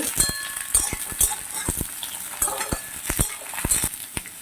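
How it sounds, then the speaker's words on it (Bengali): Potato, pumpkin and eggplant stirred while frying in a pan for a sour summer vegetable curry with green mango, with repeated sharp scraping clacks of a spatula over a light sizzle. "আলুটা একটু ভেজে নিয়েই দিয়ে দিচ্ছি কুমড়োগুলো দিয়ে দিচ্ছি বেগুন এগুলো দিয়েও আমি একটু নেড়ে চেড়ে নেব"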